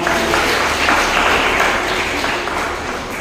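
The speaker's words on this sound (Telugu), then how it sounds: "మళ్ళొకసారి మీరు చప్పట్లు కొట్టండి." A church congregation at Sunday worship claps together, a dense, loud, sustained wash of many hands filling the room for the whole stretch, with no pause.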